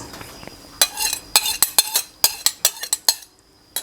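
Canned fish added to a bowl for a spicy Thai larb, with a string of sharp clinks and scrapes of a spoon against the bowl in uneven bursts, near and moderately loud.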